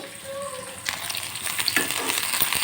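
Marinated chicken frying in a pan, giving a soft, close sizzle that grows louder after a moment, with light crackles and stirring scrapes throughout.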